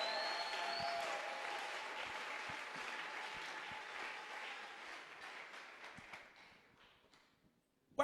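Church congregation at a French-language sermon applauding and cheering, a full wash of clapping and voices that gradually fades to quiet over several seconds.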